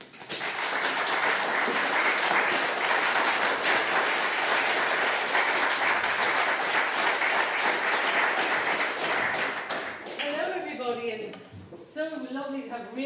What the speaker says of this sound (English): give a nice big round welcoming round of applause for the amazing Insieme